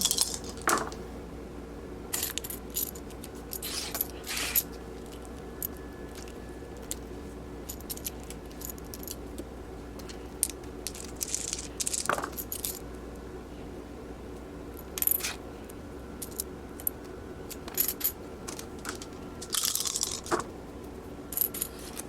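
Four small six-sided dice tumble and clatter across a hard surface in scattered, sharp bursts, with several separate rolls and quiet pauses between them.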